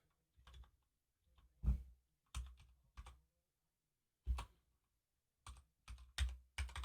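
Short bursts of typing on a computer keyboard, clustered key clicks separated by silent pauses, close and fairly quiet with no speech.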